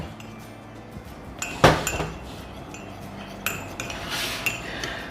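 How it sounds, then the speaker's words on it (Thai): A teaspoon clinks against a cup while stirring 100% cocoa powder into water for a hot or iced cocoa made with coconut sugar. There are a few scattered clinks and one louder strike near the middle, with no talk. "เอาช้อนชา ที่บ้านเราเนี่ยค่ะ"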